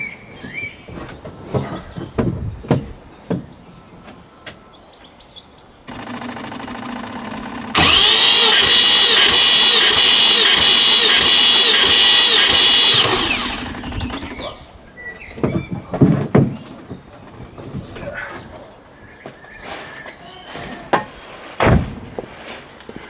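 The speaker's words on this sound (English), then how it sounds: "Cold engine" A Triumph TR7 V8 race car engine starting from cold: cranking, then a sudden loud steady roar held for several seconds before dropping back, surrounded by close mechanical clatter.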